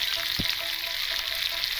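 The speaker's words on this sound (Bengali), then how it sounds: "চলো আলুগুলো ভেজে নিই" Potato pieces fry in hot oil with a little turmeric for a vegetarian Kashmiri aloo dum, a steady close sizzle running throughout with a brief stirring knock near the start.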